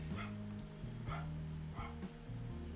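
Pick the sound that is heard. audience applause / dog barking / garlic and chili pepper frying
dog barking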